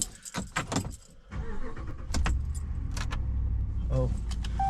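Keys jangle in several quick metallic bursts up close during solo truck camping, then a vehicle engine hums steadily underneath with a few more faint clinks and rattles.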